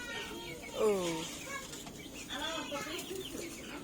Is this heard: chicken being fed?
yes